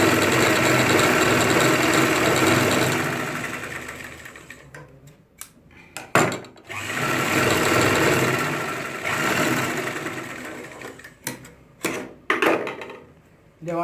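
A sewing machine runs in long steady stretches while stitching a ladies' pant with a side zip, stopping and starting with brief pauses and short clicks between runs.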